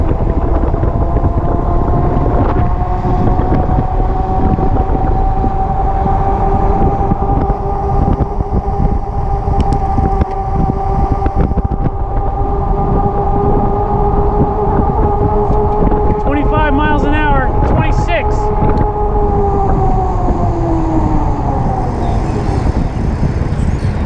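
Biktrix Juggernaut HD electric bike pulling away under thumb throttle, a steady motor whine rising in pitch as speed builds, with loud wind rush over the microphone and brief voice in the background.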